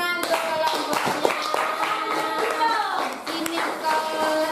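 Children in a classroom clap for a group of classmates, brisk close clapping mixed with children's voices chattering throughout.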